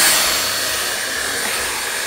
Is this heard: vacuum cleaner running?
yes